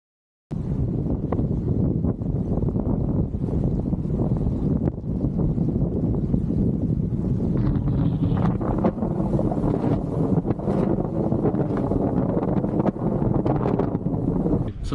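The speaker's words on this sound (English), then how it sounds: "then it got really windy." Strong wind buffets the microphone with a constant low rumble, with occasional creaks and splashes from a sailboat underway along the coast under headsail.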